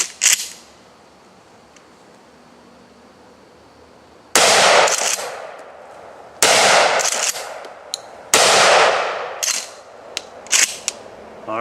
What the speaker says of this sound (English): We'll go ahead and just put 3 rounds of double-aught buck in it from here